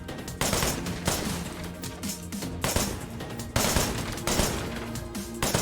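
Shots fired at targets in the shooting mini game of Wanted: Dead, a steady run of loud, booming gunfire with heavier blasts at regular intervals over a dense, continuous background.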